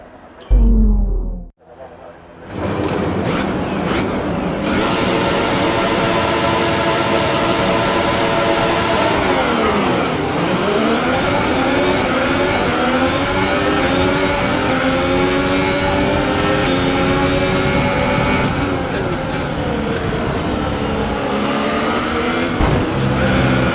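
A field of F1 cars launches from the start of the French Grand Prix in the racing game F1 2017, loud high-pitched engines screaming and shifting together after a brief quiet, dense and close throughout.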